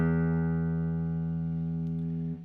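An acoustic guitar's low E sixth string, tuned correctly, is plucked once and rings out as a steady sustained note with rich harmonics, close and clear, fading slightly before it is cut off near the end.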